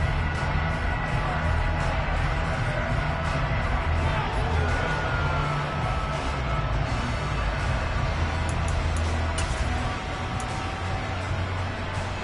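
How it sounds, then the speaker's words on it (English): Stadium crowd in a Madden NFL game shouting and cheering steadily during a Texans vs Titans replay, a dense continuous roar with scattered louder whoops, with commentary faintly mixed in. "Plenty of shouts from this crowd as they watch the replay."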